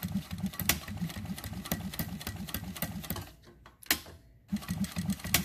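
A New Tech GC-9922A industrial sewing machine stitches in rapid mechanical bursts with sharp clicks between them. It goes quiet briefly mid-way, then resumes sewing, all close and without talk.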